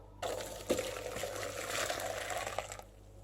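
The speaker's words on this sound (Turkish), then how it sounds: "Havlu yardımıyla alıyorum ve suyunu boşaltıyorum bunu." Hot water pours steadily off into a strainer in a kitchen, a close, continuous splashing rush that runs for about three seconds before stopping.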